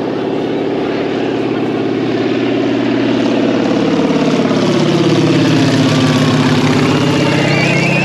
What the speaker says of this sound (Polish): Samolot lata naprawdę nisko.